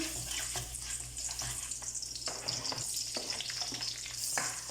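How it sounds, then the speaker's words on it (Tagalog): Onion and garlic sautéed in cooking oil for Bicol-style pancit crackle and sizzle in a hot pan, with repeated scraping stir strokes and a faint watery hiss, close and continuous. "Magigisa na ako ng sibuyas bawang."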